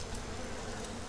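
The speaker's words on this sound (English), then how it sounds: "Stupid bees." A swarm of bees in the video game BioShock drones with a steady, close, continuous buzz throughout, with no voices over it.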